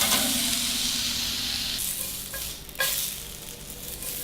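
Bacon sizzles and crackles steadily in a hot pan, a dense hiss that drops slightly partway through, with a couple of brief clatters of stirring or handling near the end.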